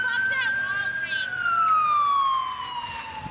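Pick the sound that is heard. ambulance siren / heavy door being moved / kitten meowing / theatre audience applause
ambulance siren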